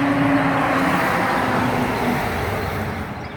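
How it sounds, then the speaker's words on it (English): Steady road traffic passing by, a continuous broad rushing wash of tires and engines that fades slightly at the end, with no voices. "Good little bit of traffic right here."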